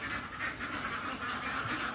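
A flock of farm ducks waiting for feed quacks continuously, overlapping nasal calls forming a busy, close chorus with no pauses.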